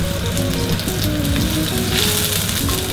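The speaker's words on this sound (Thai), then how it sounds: "เราจะลงพริกแกงไปก่อน" Red curry paste sizzles and fries in a hot wok, a loud, continuous crackling hiss with steady spattering, up close, for the whole stretch.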